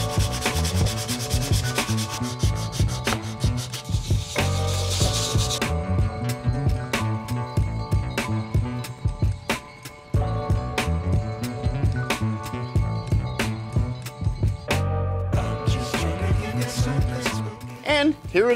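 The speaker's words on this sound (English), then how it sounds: "So, let's sand it." Steady, continuous sanding of a wooden beer flight board, a loud rhythmic rubbing scrape that runs unbroken throughout with short repeated strokes.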